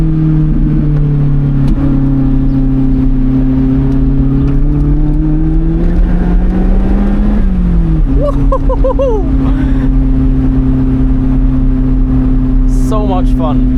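A car engine drones steadily and shifts pitch as it accelerates through a bend on a twisty road, loud and close throughout, with a brief higher whine in the latter half.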